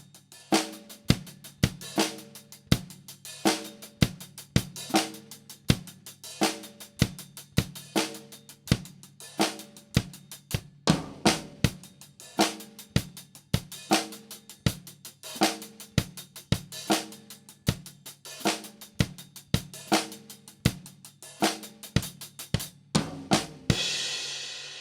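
A full drum kit captured through a single Shure 58 microphone placed at the middle of the kit plays a steady groove of punchy kick and snare hits with cymbals, loud and close, ending in a final crash; no talking.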